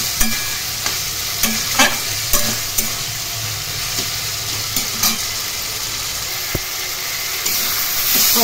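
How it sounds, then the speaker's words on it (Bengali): Spices sauté in a pan for a Bengali hilsa fish curry, with close, repeated spoon strokes scraping and knocking every second or so over a continuous sizzle and hiss. "ভালো করে কষিয়ে নিতে হবে, তার জন্য মাঝে মাঝে অল্প জল দিতে হবে ও নেড়ে দিতে হবে।"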